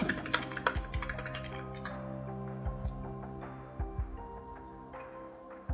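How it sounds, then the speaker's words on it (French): Keys clatter on a computer keyboard as a password is entered, a quick burst of close taps at first, then sparser scattered keystrokes under a low background hum. "Je tape mon mot de passe."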